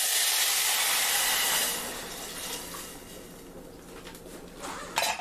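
Water poured into a pot of still-hot cooked rice gives a loud, broad steaming hiss that fades after a couple of seconds into a softer simmering wash, with a brief rattle near the end.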